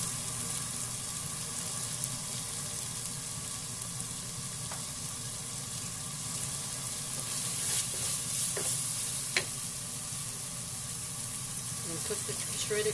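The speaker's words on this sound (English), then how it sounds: "And cook the shredded carrots first" Shredded carrots with garlic cook in a pan, giving a steady, even sizzle throughout with a few light utensil scrapes and taps, and no voices.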